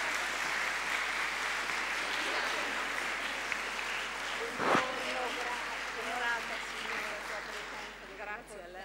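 Audience applause at a school legality-education meeting in a hall, steady clapping from a crowd that swells, fades and picks up again over several seconds.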